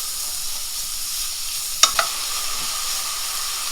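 Seasoned corn sizzles in a hot pan with a steady bright hiss, interrupted by two quick clinks of a utensil stirring it around; no talking.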